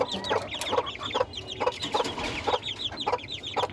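Hens and roosters cluck in repeated short bursts at a backyard poultry coop, a steady overlapping chatter of several birds close by with no talk.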